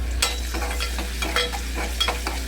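Crushed ginger sizzles in a hot pan of frying ingredients while being stirred, a steady close sizzle with quick scraping strokes and no talk.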